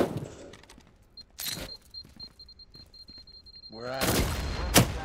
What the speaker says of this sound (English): Got me with the grenade.